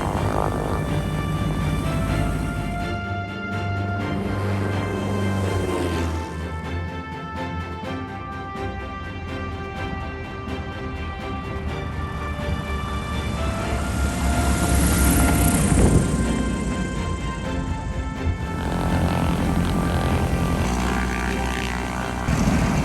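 Steady, loud drone of a rare turbocharged twin-engine airplane in flight, heard continuously from inside with a broad engine roar and propeller hum that swells slightly midway, with no talking.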